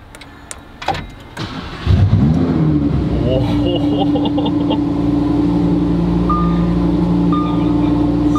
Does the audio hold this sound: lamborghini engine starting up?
yes